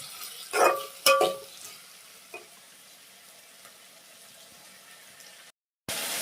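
Tomato and vegetables fry in a pan for vegetable pasta, a faint low sizzle with a couple of louder stirring scrapes early on, then quiet steady frying before a short break.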